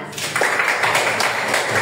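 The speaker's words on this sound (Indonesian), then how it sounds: "Oke, tepuk tangan." Students in a classroom clap their hands together in a short round of applause, a brief cluster of close, sharp claps.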